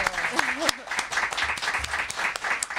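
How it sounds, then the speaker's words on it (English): An audience at a book launch for Weike Wang's novel claps in a moderate, even patter, with a voice speaking briefly over the start of the applause. "But can we give Weike a round of applause?"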